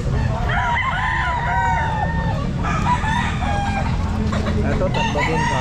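Kanawayan gamefowl roosters crowing repeatedly at a busy pet market, several loud overlapping cock-a-doodle-doos close by, with clucking and people talking underneath.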